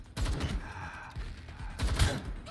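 Gunfire from a trap in Watch Dogs Legion, with two bursts of rapid, loud shots and clattering mechanical noise between them and no talk.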